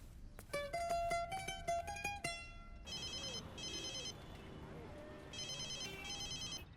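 Telephone ringing in a home scene, a repeating electronic ringtone in short trilling bursts at moderate distance, following a melodic jingle, with background noise and voices around it.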